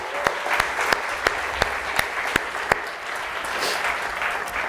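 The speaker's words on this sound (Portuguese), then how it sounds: "Você pode aplaudir o Senhor" A church congregation claps in a steady rhythmic beat, sharp regular hand claps over a softer murmur of scattered applause, fairly close and clear.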